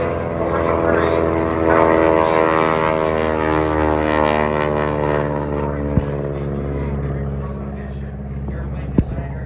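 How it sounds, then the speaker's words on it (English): Vintage propeller aircraft flying past at the EAA Oshkosh air show in Wisconsin, a loud, steady engine drone with a strong harmonic hum that holds through the whole pass, with a couple of sharp clicks near the end. "We're ready to begin the vintage and review flyby"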